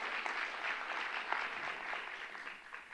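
Distant, fairly faint applause from a large audience at a school district address, a steady wash of clapping throughout.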